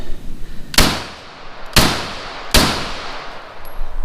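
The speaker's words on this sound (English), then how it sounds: "3 more shots." A handgun fires one-handed, three sharp, loud shots spaced about a second apart, each with a brief ringing tail over quiet outdoor background.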